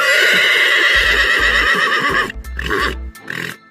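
A horse whinnies loudly and close up in a drawn-out call, with low snorts and hoof sounds breaking through near the end, no speech.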